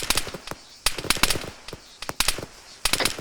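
Rapid bursts of rifle and machine-gun fire from a fire team in the military shooter ArmA 3, sharp cracks in several clustered volleys, fairly close and with no voices over them.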